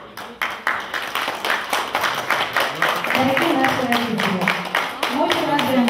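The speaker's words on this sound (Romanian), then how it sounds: "Vă rugăm frumos aplauze pentru domnul Mihail și pentru doamna Parascovia." Wedding guests clap for the bride's parents, a dense run of sharp handclaps that carries on steadily while voices talk over the applause.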